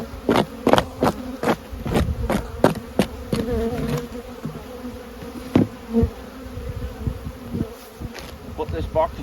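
Honey bees buzz around an open hive box during brood chamber work, a close, steady hum broken by loud knocks and taps of the wooden boxes being handled.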